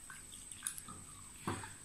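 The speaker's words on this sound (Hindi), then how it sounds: "तीनों ग्लासेस में हम पानी भर लेते हैं।" Water is poured into three glasses, soft splashing and trickling that comes in short bursts, quiet against a faint steady hiss.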